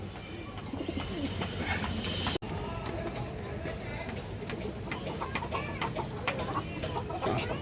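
Pigeons cooing and calling close by among a group of birds, including large-headed silver pigeons, with repeated low throaty calls over busy background chatter and someone talking.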